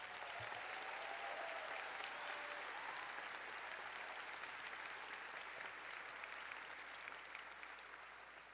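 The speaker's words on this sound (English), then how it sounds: "Let's give him another round of applause" A large crowd at a university commencement ceremony gives a sustained round of applause, steady and even throughout with a faint tone running beneath it, heard from a distance.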